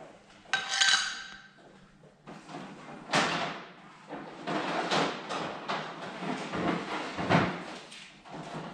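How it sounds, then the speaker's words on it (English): Two-part Rust-Oleum EpoxyShield garage floor coating, part A being mixed into part B, heard as clunks and knocks of the containers followed by steady, close scraping and stirring noise. "So now I'm gonna mix part A to part B."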